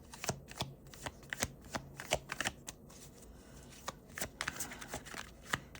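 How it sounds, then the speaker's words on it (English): A deck of tarot cards is shuffled by hand, with quick irregular riffles and soft slaps up close in a quiet room, no voices. "Thank you for your patience as I shuffle."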